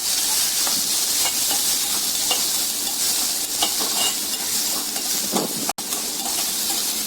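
Onion and chilli fry in hot oil for egg pepper fry, a loud continuous sizzle with repeated stirring scrapes and clicks from a spatula throughout, briefly dropping out near the end.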